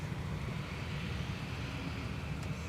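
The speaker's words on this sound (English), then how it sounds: "Icelandair is now on the move, taxiing to" Icelandair airliner taxiing at MSP airport, a steady distant engine rumble with broadband hiss and wind noise, constant in level throughout.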